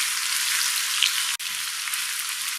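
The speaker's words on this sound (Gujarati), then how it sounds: "હવે આને વઘારમાં મિક્સ કરીને 4 થી 5 મિનિટ માટે કૂક કરવાની" Ground chutney cooking in a hot oil and cumin tempering sizzles and crackles steadily up close, a continuous frying hiss with one brief dip midway and no voices.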